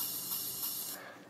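A ride cymbal drum sample rings as a steady, bright, hissing wash, fairly loud, then drops away after about a second.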